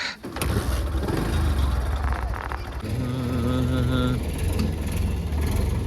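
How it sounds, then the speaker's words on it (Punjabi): Diesel tractor engine running on a farm while clearing a dry acacia tree, a steady loud rumble that shifts pitch partway through, with a person talking over it. "ਕਰ ਲੈ ਬੰਦ ਬਈ ਟਰੈਕਟਰ"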